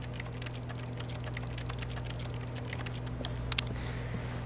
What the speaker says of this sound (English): It's a bunch of filing cabinets that sound like a keyboard.